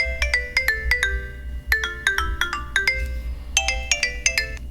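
A basic dumbphone alarm ringtone plays loudly and close, repeating a bright, quick electronic melody of clustered beeps in several rising and falling phrases, with no talking.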